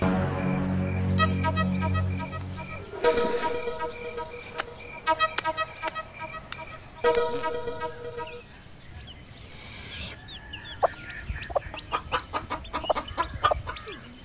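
A rooster and chickens cluck and crow in repeated sharp bursts, fairly close and loud, with some quieter stretches between calls.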